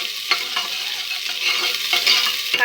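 Chopped onion fries in oil and is stirred until reddish-brown, a loud close sizzle with regular scraping strokes of the spoon throughout and no talking.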